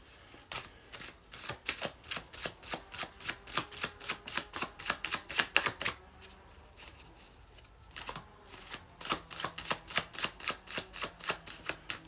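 A deck of reading cards being riffle-shuffled close up, with rapid fluttering bursts repeating in quick succession and a short pause partway through, sounding alone with no talking.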